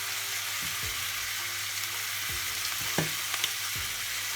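Garlic sizzles in a hot pan while cooking a vegan peanut-sauce mafé, a steady close frying hiss with a few soft stirring taps and clicks, no talk.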